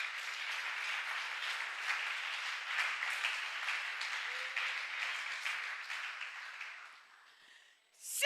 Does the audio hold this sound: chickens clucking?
no